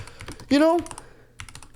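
Keys clacking on a computer keyboard at a PC setup, short bursts of taps near the mic, broken by a brief voiced sound in the middle before the typing resumes.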